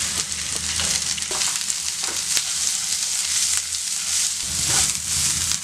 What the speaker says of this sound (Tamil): இப்போ பாருங்கள், இதில் வெங்காயம் போட்டுக்கலாம். ஒரு சின்ன பச்சை மிளகா 2 போடுறேன் நான்.